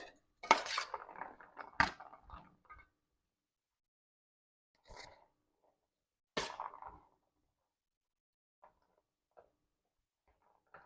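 A spoon clinks and scrapes in a bowl while boiled red kidney beans are stirred into a rajma Russian salad, giving a few quick clatters close by, then sparse soft taps with long quiet gaps.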